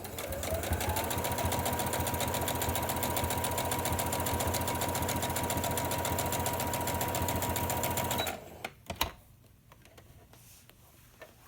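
A sewing machine runs steadily while stitching a fabric face mask with a pocket and wire, a loud, continuous rapid whirring rattle for about eight seconds before it stops, followed by a few faint handling clicks.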